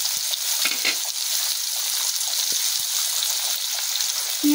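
Chopped onions fry in a pan with a bright, constant sizzle dotted with small pops and clicks, close and fairly loud, with no talking.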